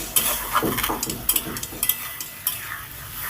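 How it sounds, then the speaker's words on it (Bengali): Spice paste for an elephant foot yam curry fries and gets stirred in a pan, with steady close sizzling and repeated scraping strokes of a spoon against metal, no talking. "এবার মশলার বাটি ধোয়া জল দিয়ে সুন্দর করে নেড়ে চেড়ে আমি দুই থেকে তিন মিনিট ধরে কষিয়ে নেব"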